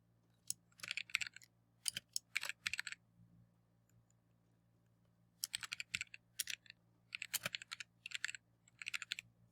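Fast bursts of typing on a computer keyboard, crisp close key clicks in quick clusters separated by short pauses over a faint steady hum.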